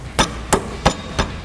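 Hammer tapping a lower control arm into place on a 2009 Mustang GT, four sharp metallic strikes at an even steady rhythm, close and clear with no talk.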